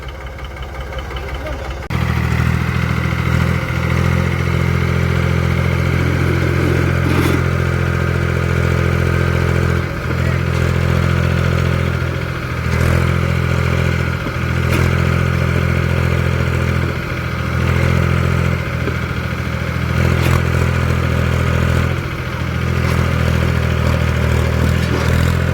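A tractor engine runs loudly and close while stuck in mud, a steady heavy idle with periodic surges and clatter, sustained throughout after a quieter start.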